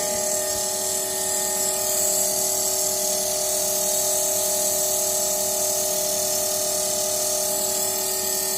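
A DC shunt machine runs on a lab bench at about 180 volts armature, giving a constant high electric whine with steady tonal hum lines, unchanging throughout and with no talk.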